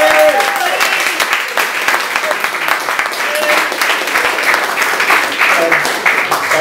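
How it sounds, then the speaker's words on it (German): Steady applause from an audience at a German-language event in Cologne dialect, dense clapping filling the whole stretch at close range with some voices and whoops mixed in. "Deswegen möchte ich doch mal bitte einen Applaus für Dave."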